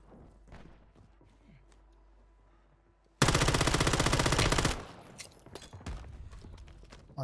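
Sustained automatic gunfire in Call of Duty Warzone erupts loud and close as a rapid rattling burst lasting over a second, followed by scattered shots and game effects, with quieter background sounds before it.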